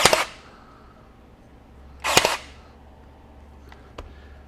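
A DeWalt 20V DCN623 23-gauge cordless pin nailer fires pins, two sharp loud snaps about two seconds apart followed by fainter clicks, close and without talk.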